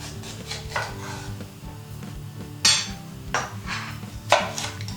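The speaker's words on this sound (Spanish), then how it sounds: "así que cortamos un trozo de pimiento" A knife works through a piece of bell pepper on a board in a home kitchen, giving several soft scraping cuts with a few sharper knocks.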